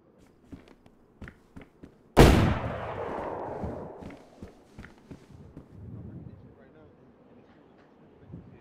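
A single loud gunshot rings out in DayZ and trails off in a long echoing decay, with soft footsteps before and after and voices talking.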